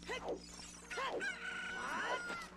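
A cucco chicken in Ocarina of Time squawks and crows in loud, wavering calls, two short squawks followed by a longer drawn-out cry, close and clear with game sounds behind.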